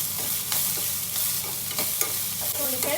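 Onions and dried curry leaves fry and sizzle in a pan for a green chilli gravy, a steady crackling hiss with a few louder spatters and stirring scrapes, close and continuous with no voices.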